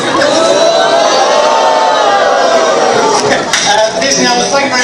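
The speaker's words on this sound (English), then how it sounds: "Thank you very much for your warm applause." An audience at a school production of Hot Mikado applauds and cheers after the show, a loud, dense wash of clapping with whoops and shouts from the crowd.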